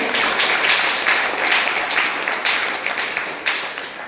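A congregation at a prayer meeting applauds loudly and continuously, a thick crowd of clapping that fades somewhat near the end with a few sharper claps standing out.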